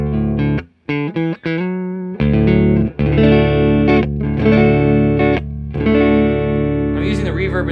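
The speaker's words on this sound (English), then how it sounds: "I'm using the reverb in the 65 Deluxe as always," Electric guitar played through the reverb of a '65 Deluxe amp, set around four, with strummed and picked chords and short stabs ringing out with a wet tail, loud and close with brief gaps between phrases.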